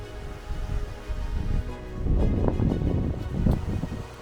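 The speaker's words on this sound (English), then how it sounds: "it's been just horrible wind." Strong gusty wind buffets a lakeside or seaside camping spot, rumbling and surging in waves, with heavy bursts battering the microphone; no talk.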